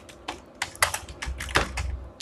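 A company name is typed on a computer keyboard, producing quick, irregular key clicks that are fairly soft and close.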